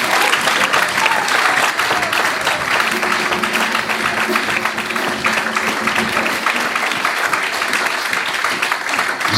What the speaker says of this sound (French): Est-ce qu'on peut encore acclamer le Seigneur?